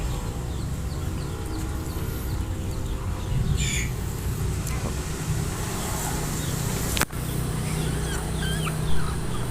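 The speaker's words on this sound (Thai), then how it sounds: "ไก่จะมานอนนะครับ" Hens in a coop on a small egg farm cluck and squawk in scattered calls over a steady background hum, with a sharp knock midway and a louder squawk near the end.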